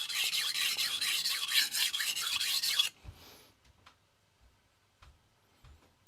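A dull knife rasps in steady back-and-forth strokes across a Cheefarcuut 400 grit sintered diamond stone under light pressure, a loud scratchy grind for about three seconds, then stops, leaving faint scattered taps and handling noises.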